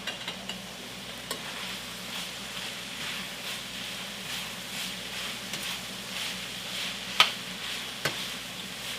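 Chopped potatoes and carrots sizzle in a pan with chipotle-spiced ground beef, a faint steady frying hiss broken by a few scraping stirs.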